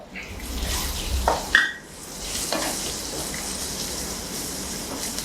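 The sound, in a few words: chopped garlic frying with onions in a pan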